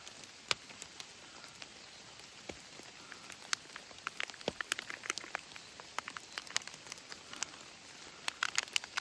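Rain falls steadily on a bushland hiking trail in the Sunshine Coast hinterland, a dense patter of close, irregular raindrop ticks and taps with no talking.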